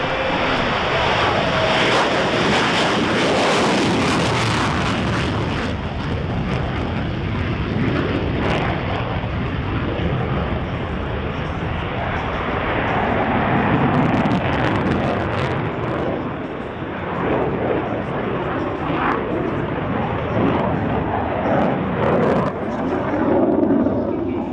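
A USAF F-16 Viper fighter jet flying an aerobatic demonstration produces a broad, continuous roar that swells and fades across a long pass, loud and a little distant, with wind buffeting the microphone.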